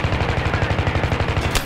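Rapid automatic shotgun blasts from a Street Sweeper in Battlefield 3, a steady rhythmic string of close, loud shots with no break over less than two seconds.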